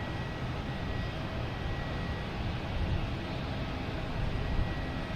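A JetBlue Airbus A321neo jet airliner at Boston Logan Airport, a steady low engine roar and rumble heard from a distance, continuous and fairly constant over a few seconds.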